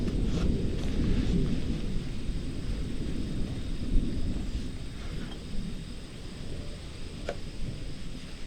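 Distant thunder rolls as rain approaches an outdoor building site, a low continuous rumble that swells and fades without any talking.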